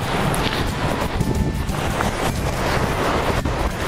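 Steady wind roars and buffets a microphone outdoors, a continuous broadband rush with low rumbling gusts throughout.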